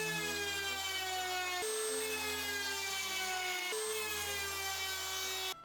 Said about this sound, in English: I like to use a combination of a rebate and a bullnose router bit